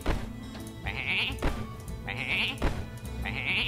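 Sheep bleat in the Hearthstone video game, three distinct wavering cries at roughly even intervals over game music and effects, fairly clear and close.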